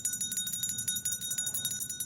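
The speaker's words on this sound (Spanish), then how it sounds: "alguien recorrió los pasillos de las celdas, haciendo sonar una campanilla" A small hand bell is rung along the corridors of a monastery's cells, jingling in a rapid, steady, bright clatter for the whole moment, fairly loud and alone.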